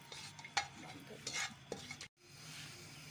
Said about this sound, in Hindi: ये देखिए, ये फ्राई होना शुरू हो चुका है मसाला, ये फ्राई हो गया हल्का सा।